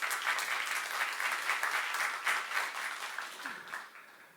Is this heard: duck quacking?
no